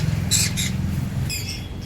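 Birds at a pet shop give two short bursts of high, bright chirping over a low steady hum in the background; no one speaks.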